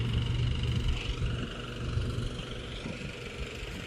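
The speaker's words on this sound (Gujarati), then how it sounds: "આ ટ્રેક્ટર આવ્યું." A tractor engine rumbles steadily on a village farm road, a low continuous drone that stays fairly loud and close throughout, with no talk over it.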